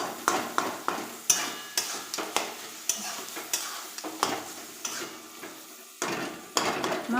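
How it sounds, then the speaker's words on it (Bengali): A spatula chops and breaks up potatoes in a frying pan, cooked with spinach and shrimp, making rapid repeated metallic scrapes and knocks against the pan over a constant sizzle, close and busy with no pause. "এবার আমি ভালোভাবে আলুগুলোকে একটু কেটে নেব খুন্তি দিয়ে"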